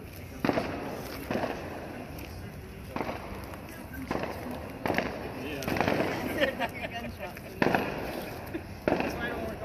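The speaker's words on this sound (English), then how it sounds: "I'm hearing gunshots in the alley over there." Sharp pops of gunshots or fireworks crack out of an alley at night, about seven irregular reports spread out and somewhat distant, with a constant background hiss and scattered voices.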